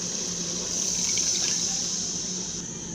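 Stock poured into a pot of cooking vegetable stew, a steady continuous pouring hiss of liquid running for a few seconds, close and fairly even.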